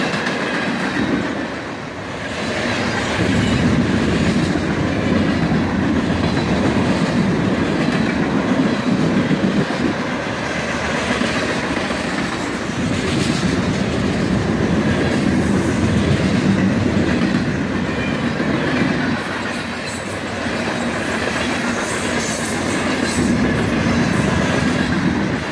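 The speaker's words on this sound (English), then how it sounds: "A southbound manifest train, led by just a single GEAC" Southbound CSX manifest freight train led by a single GE AC44CW locomotive rolling past, steady loud rumble and clickety-clack of mixed freight cars and eight-axle flat cars, wheels occasionally squealing, continuous throughout with no talk.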